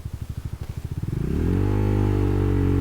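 A heavy Venom 250cc motorcycle revs hard in first gear, its engine pulsing in rapid chugging beats before rising into a smooth, loud sustained drone, close by.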